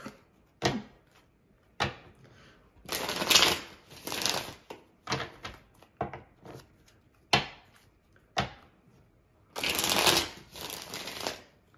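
A deck of tarot cards is shuffled by hand in short, crisp riffling bursts, each followed by quick taps and pauses, close and clear.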